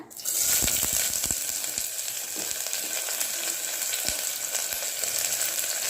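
Chopped onions fry in hot oil with mustard seeds in a small pressure cooker, giving a steady, close, loud sizzle with scattered crackles and pops throughout.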